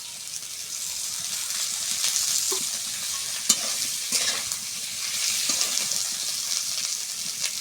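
Elephant foot yam slices frying in mustard oil, a steady bright sizzle with light crackles and occasional utensil taps, close and continuous without talk.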